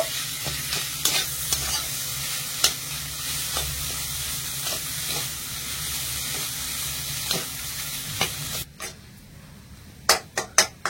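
Mashed boiled potato filling with salt and sugar is stirred and fried in a pan, a continuous loud sizzle broken by repeated scraping strokes, then a quieter stretch ending in several sharp spatula clacks against the pan.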